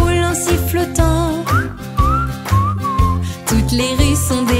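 A cheerful whistled melody rises in bright gliding notes over a bouncy children's song backing, carried by a rubbish collector rolling along the streets at sunrise.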